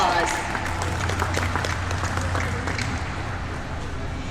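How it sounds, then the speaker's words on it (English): An aquarium show audience applauds dolphins, a steady wash of many hands clapping that fades slightly, with someone talking over it. "Let's give these dolphins another nice big round of applause."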